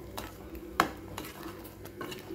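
Cooked toor dal stirred into fried snake gourd for sambar, quiet clinks and scrapes of a spoon against the pan over a faint sizzle, with one sharper knock.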